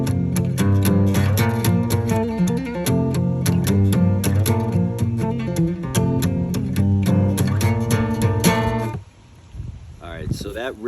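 A guitar plays the intro of a song: three power chords with a treble melody on top, strummed loud and steady for about nine seconds before stopping short. A few quiet, faint sounds follow.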